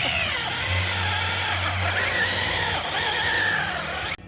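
A power reamer spins and cuts through metal on a Suburban roof repair, giving a loud, continuous high whine with a low hum beneath, steady until it cuts off abruptly near the end.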